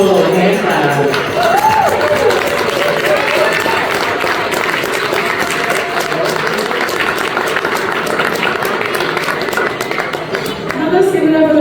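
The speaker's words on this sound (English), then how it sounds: "Let's give Mr. Bull a hand clap." Wedding guests clapping for the best man at a reception, a broad, continuous wash of applause and crowd noise filling the room, with voices mixed in beneath the clapping.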